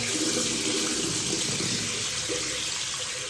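Water runs steadily from a bathroom tap in a hotel room during a quick pressure test, a continuous close, full-bodied rush that holds level from start to finish with no talking over it.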